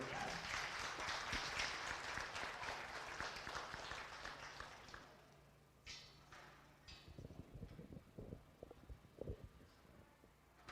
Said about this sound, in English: Please give the young lady on the end a round of applause.